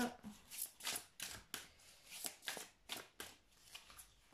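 A deck of oracle cards is shuffled by hand, about a dozen quick riffling bursts in an uneven rhythm, close but quiet, with no talking.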